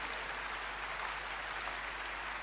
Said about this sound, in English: Church, clap your hands very loud as we receive them.